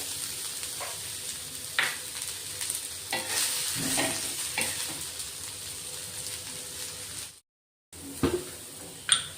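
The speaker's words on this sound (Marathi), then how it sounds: "तेल टाकल्याने कांदे पटकन भाजले जातात." Sliced onions fry in oil in a pan for mutton masala, a steady sizzle with repeated scraping stirs of a utensil, close and fairly loud, broken by one brief silent gap.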